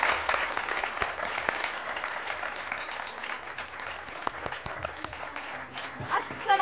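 Applause from an audience at a weekend stage show as guests are invited up. The clapping is steady and sustained, with talking over it.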